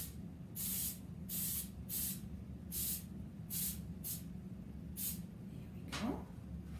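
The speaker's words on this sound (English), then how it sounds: "Now it wants me to spray the inside of each cookie cutter." Cooking spray hisses from a can in seven or eight short, evenly spaced bursts as it coats the insides of cookie cutters, each spray loud and crisp over a low steady background hum.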